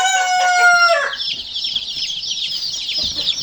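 White Ispenc chicks about 15 days old call in a coop, opening with a loud ringing series of tonal calls, then a steady high chirping chorus close by.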